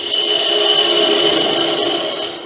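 Steady, loud whirring and scraping of a tool cutting wood on a spinning lathe, continuous and close for the whole stretch.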